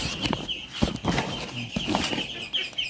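Chinese ducklings and their mother call back and forth at a farm pond, a busy, continuous stream of peeps and quacks with some fluttering, fairly close.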